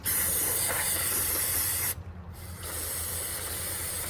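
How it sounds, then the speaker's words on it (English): Brake cleaner aerosol blasting steadily into an oily car part during an oil change, a loud close hiss that breaks off briefly midway and then resumes. "This is where brake clean comes in handy."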